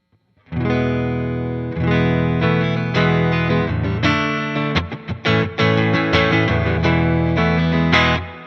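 A Fender VG Stratocaster on its neck pickup plays a run of chords and single notes through a Princeton amplifier, warm and rounded with a reverb tail, loud and close with no talking.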